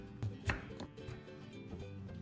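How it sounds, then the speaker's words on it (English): A knife chops raw sweet potato into medium-sized pieces on a board, giving a few quiet, close, uneven thuds over soft background noise. "Then peel the skin and cut it into medium-sized pieces"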